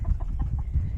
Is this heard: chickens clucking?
yes